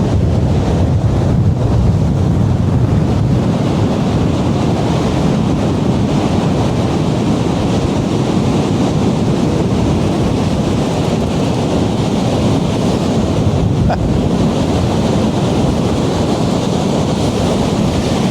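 Ocean waves break steadily on a surf beach in a constant, loud, close roar of rushing water, with heavy wind buffeting the microphone and no voices.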